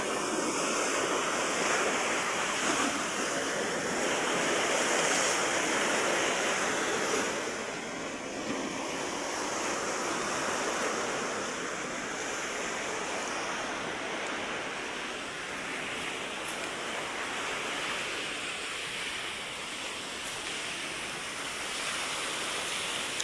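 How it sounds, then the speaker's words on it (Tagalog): Ocean waves roll onto a shore lined with large concrete jackstones, a continuous loud wash of surf with swelling surges that eases slightly but never stops. "Ngayon lang kasi alon lang talaga."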